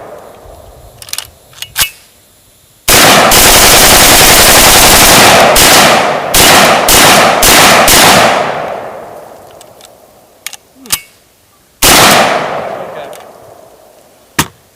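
Bump-fired rifle gunfire, loud and close, with a long rapid rattling burst and scattered single shots, then a second burst near the end. The bolt rides forward on the shoulder.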